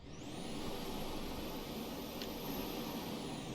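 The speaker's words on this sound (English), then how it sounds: "They're actually just huge jet engines." Huge jet engines on a craft in the Jet Jumble video game, with a steady, broad roaring rush that holds at an even level throughout, joined by a thin high whine and no voices.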